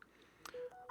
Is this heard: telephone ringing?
yes